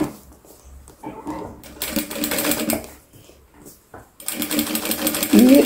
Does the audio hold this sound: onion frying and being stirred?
no